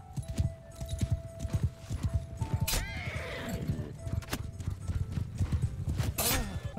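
Armored cavalry horses in a medieval strategy video game, with rapid clip-clop hoofbeats and several loud neighs and whinnies amid battle noise, with faint talk underneath.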